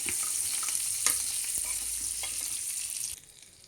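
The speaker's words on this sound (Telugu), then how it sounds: "పోపు దినుసులు వేసుకొని తాళింపు పెట్టుకోవాలి." Spices crackle and sizzle in hot oil, tempering a radish chutney; a steady, close frying hiss with a few sharp pops, stopping abruptly near the end.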